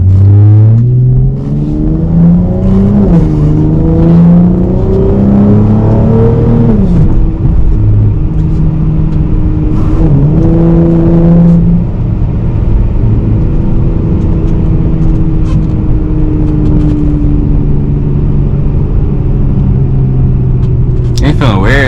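A car engine rises and falls as the vehicle accelerates and shifts gears by itself while driving, its rumbling tone climbing in steps, with loud voices talking over it throughout.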